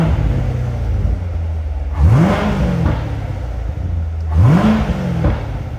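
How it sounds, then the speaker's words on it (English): A 2017 Corvette Convertible 2LT Z51 with automatic transmission idles with a low rumble, then revs sharply twice, each rise in pitch falling back to idle, close and loud. "Give it a couple revs for you guys now."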